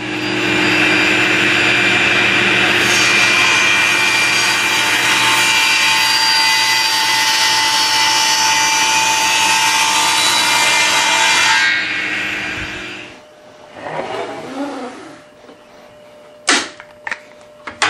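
A saw cuts through two clamped wooden boards backed by a backer board, a loud, continuous whirring cut for about twelve seconds, then spins down, followed by a few soft knocks and handling noises.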